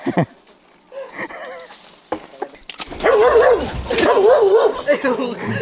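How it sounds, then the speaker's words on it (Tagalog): A dog barks and yips repeatedly near a riverside campsite, growing louder and more excited, with whiny, wavering cries mixed in and a person talking briefly at the start. "May aso pala dyan."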